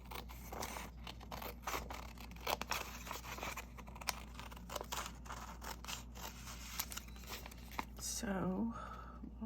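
Scissors snip through old ledger paper with rustling and crinkling, a steady run of short cuts and scrapes up close, joined near the end by a brief voiced sound.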